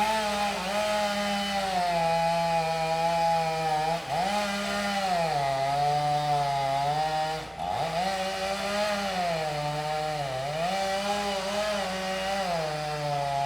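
A chainsaw runs steadily through a 36-inch diameter trunk of a 120-foot tree being removed between houses, loud and continuous with brief dips in engine pitch as the chain bites, then recovers.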